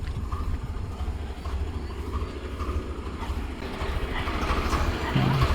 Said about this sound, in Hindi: साउंड आ रहा था ट्रैक्टर का